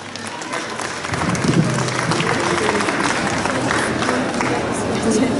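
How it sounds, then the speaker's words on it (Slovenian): A concert audience at an outdoor women's day event in a Ljubljana shopping park applauding steadily and densely, a loud sustained wash of clapping with crowd murmur throughout. "En aplavz, lepo prosim."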